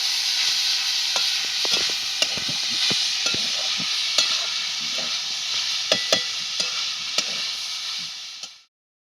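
Cowpeas sauté with turmeric and salt in a hot pan, a steady loud sizzle running throughout while a spatula clicks and scrapes at irregular intervals, ending abruptly.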